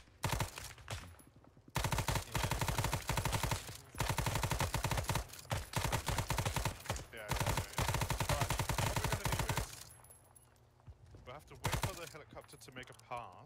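Sustained automatic gunfire and rapid bursts in the Vietnam-era shooter Arma 3 S.O.G. Prairie Fire, loud and dense for long stretches with brief pauses, teammates talking over it.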